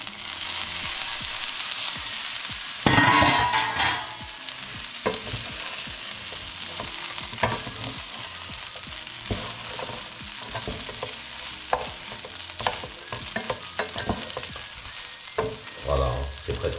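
Duck confit fries and is stirred in a pan: a steady sizzle runs throughout, broken by repeated scraping stirs, with a louder burst near the start and again near the end.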